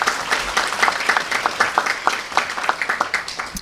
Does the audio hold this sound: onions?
no